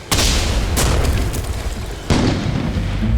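Loud, deep booming explosions with rumble in a sci-fi horror setting: a heavy blast at the start, a sharper burst just under a second in, and another strong boom near two seconds, all with no talk.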